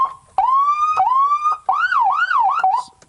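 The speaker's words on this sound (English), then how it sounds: "So Whelen siren package, just like you would have in a lot of your emergency vehicles already." A Whelen siren on an electric ambulance golf cart wails in rising tones, then switches to a quicker yelping warble, loud and close with nothing else audible.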